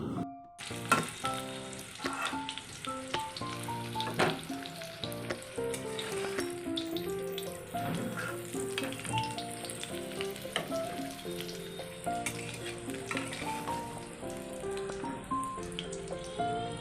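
Potatoes fry in a wok with a continuous sizzle and occasional stirring, mostly buried under prominent background music.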